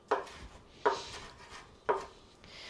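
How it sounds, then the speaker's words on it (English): A knife chopping parsley on a cutting board in three distinct, evenly spaced strokes, each a crisp thud on wood, close and quiet, with a softer fourth touch at the end and no voices. "Finely chop the parsley into little tiny bits"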